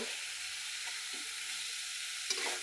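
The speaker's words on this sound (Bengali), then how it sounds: "মাছগুলোকে একটু মশলার মধ্যে ভালো করে কষিয়ে নেব" Fish fries in a spice mixture in a pan: a soft, continuous sizzle hisses throughout, with a couple of faint stirring scrapes near the end, fairly quiet and without voices.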